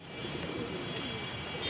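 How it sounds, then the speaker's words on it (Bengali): A homer pigeon cooing softly and low, its calls partly buried in a steady background hiss, with no voices. "হেমার কবুতর"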